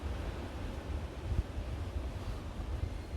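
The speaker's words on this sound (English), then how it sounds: "Man, that wind is really picking up." Onshore wind blows past a tree at a solo hammock camp, a steady, moderately quiet low roar with slight gusty swells throughout and no voices.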